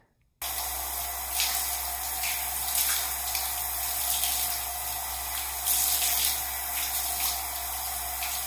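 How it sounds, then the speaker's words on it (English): Water running steadily from a tap while hair is rinsed during a natural hair wash day, a constant close splashing hiss with faint sloshing irregularities, no talk. "I'm gonna go and rinse this out."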